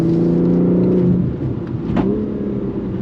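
A BMW M3 Competition G80 all-wheel-drive sedan accelerates hard out of a corner, its engine rising in a loud, close, harmonic roar, briefly dipping at a gear change, then climbing again.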